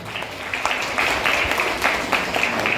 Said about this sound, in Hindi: इनको तालियों की गड़गड़ाहट से स्वागत किया जाए।